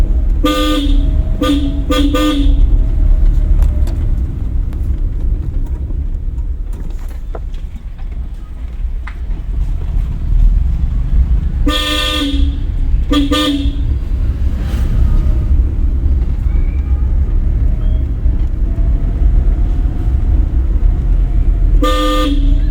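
Car horn honks in short bursts during a driving lesson: several quick toots early on, another pair midway and one more near the end, loud and close over a steady engine and road rumble.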